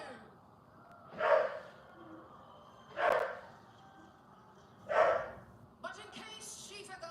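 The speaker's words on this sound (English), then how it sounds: "I don't know why they're barking" Dogs bark during a home live-stream watch-along of a wrestling show: three evenly spaced, moderately loud barks about two seconds apart over a quiet background, followed by a faint scuffle.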